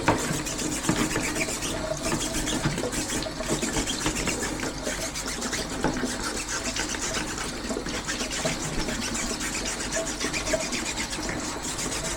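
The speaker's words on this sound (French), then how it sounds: "Vous avez bien brossé vos filtres." A stiff brush scrubbing dirty air conditioner filters, a steady rapid scratching and rubbing that runs continuously at close range with no pauses.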